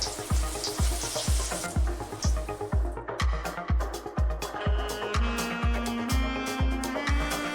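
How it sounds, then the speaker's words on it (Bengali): Chicken pakora pieces sizzle in hot oil, a steady close frying hiss with a regular thumping beat running underneath throughout. "এরকম করে আমি 2টো করে কি 3টে করে আমি ভেজে নেব"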